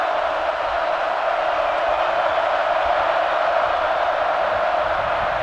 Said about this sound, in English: Crowd is into it too.